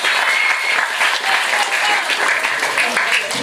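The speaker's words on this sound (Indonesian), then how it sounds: "Tepuk tangan untuk Mas Dani." A large audience at an Islamic study gathering breaks into sustained, loud applause, a thick unbroken roar of clapping with faint voices mixed into the crowd noise.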